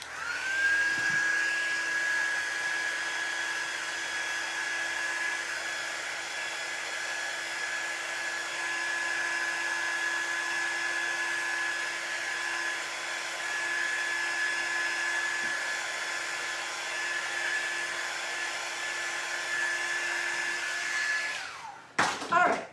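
A hair dryer blows on paper lunch bag gingerbread house windows, holding a steady whining drone for over twenty seconds before clicking off near the end. No speech is heard.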